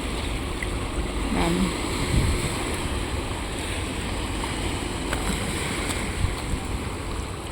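Waves wash onto the shore in a constant, rushing roar, with wind noise buffeting the microphone and an occasional louder surge.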